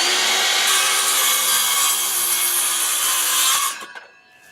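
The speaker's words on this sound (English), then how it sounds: "use this ledge real quick to cut these little angles with my cordless circular saw" A cordless circular saw whines loudly as it cuts a short angle through a piece of wood, the blade running steadily for several seconds before the cut ends and the motor spins down abruptly.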